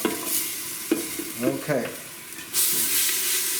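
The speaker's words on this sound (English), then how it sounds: "I always love that sound, that sizzling sound." Onions and garlic hitting hot oil and butter in a pan, a broad, steady sizzle that swells and continues, with a brief spoken word and some stirring.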